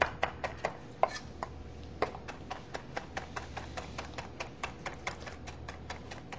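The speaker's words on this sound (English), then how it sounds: "I like to chop it a couple of times to make it somewhat fine" A knife chops cilantro on a cutting board in quick, irregular taps, about two dozen crisp strikes, close and clear over a quiet kitchen background.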